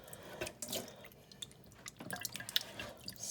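Raw chicken wings rinsed in water at a kitchen sink, with a running tap, intermittent drips and splashes as the wings are handled, close and fairly quiet with no talking.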